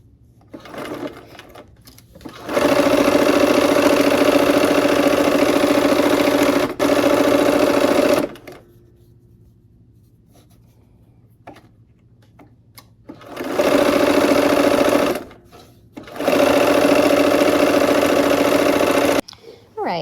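A sewing machine stitches a quilt block seam in several loud, steady whirring bursts of a few seconds each, separated by quiet pauses.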